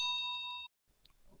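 A bright notification bell dings in a few quick repeated chimes that stop abruptly, followed by faint quiet noise.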